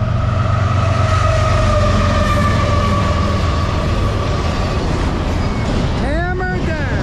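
A CSX freight train on the Lehigh line roars past at full throttle, its heavy diesel drone and rolling rumble loud and steady throughout, with a horn blast near the end.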